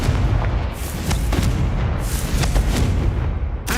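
Confringo blasts in Hogwarts Legacy: a steady run of booming, crackling explosions rolls on without pause, loud and close, with no talk over them.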